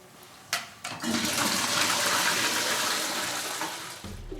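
A NoMix urine-separating toilet flushes with a sudden loud rush of water that holds steady for about three seconds before tapering off, heard close up with no voices.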